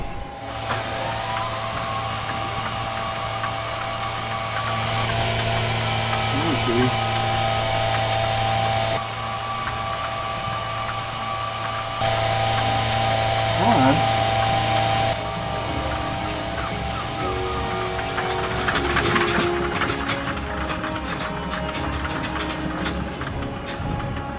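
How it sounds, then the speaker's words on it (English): A C-47 aircraft's radial engine starts from idle throttle with a loud, steady mechanical drone that shifts in level in blocks, then turns into a rough, crackling, sputtering roar near the end as it catches. "We are ready for an engine start."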